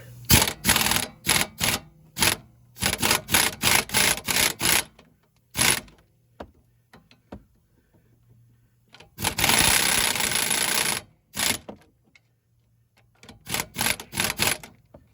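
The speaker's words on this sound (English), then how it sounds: "let's go get the air impact" An air impact wrench hammers at a sway bar link on a 2009 Dodge Caravan in repeated short rattling bursts, then one longer continuous burst and a few more quick hits, loud and close.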